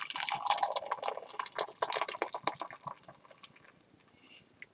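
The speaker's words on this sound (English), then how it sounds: "Pour it into the glass." Hazy pale ale glugs and splashes as it is poured from a 32-ounce crowler can into a glass, a steady close liquid rush for about three seconds. It then tapers into quieter fizzing and dripping.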